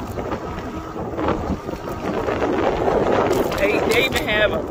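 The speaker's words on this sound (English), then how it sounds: "I can hear this wind." Gusty wind roars and buffets the microphone throughout at a campground by the Ohio River in Ohio, with a faint voice surfacing briefly near the end.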